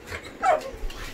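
A pet dog indoors at home whimpering with a short high yip at a visitor, faint and brief, with soft room noise around it.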